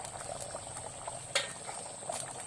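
Egg and potato curry boils in a lidded pot, giving a close, continuous bubbling with soft pops and one sharper clink partway through. No one speaks.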